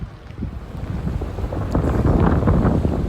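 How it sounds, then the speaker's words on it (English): Gusty wind with rain sweeping through a swampy wooded area, a steady broadband rush that builds louder over a few seconds, with soft patters mixed into the blustery noise. "Bit of a rain gust coming through right now"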